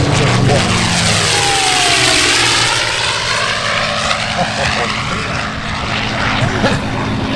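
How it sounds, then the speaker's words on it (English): A P-51 Mustang makes a pass at the NAS Key West airshow in 2023, its piston engine roaring loud and close with a rising then falling sweep as it flies by, crowd noise underneath. "make sure that we're quiet when the aircraft comes by because it makes us song"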